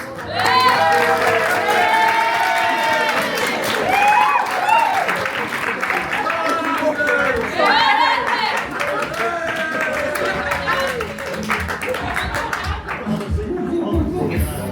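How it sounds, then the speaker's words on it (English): Audience applause and cheering in a bar during a magic show, loud and continuous clapping with whoops and crowd babble over it, sustained across the whole stretch with a few brief dips. "we're going to give you a round of applause"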